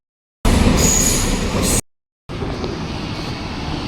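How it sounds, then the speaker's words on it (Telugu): An U-Bahn train pulls into Arabellapark station in Germany with a loud, close roar of wheels on rails and a faint high squeal, broken by a brief gap before the rumble continues. "మన ట్రైన్ వచ్చేస్తుందండి."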